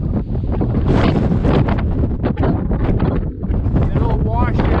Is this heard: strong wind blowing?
yes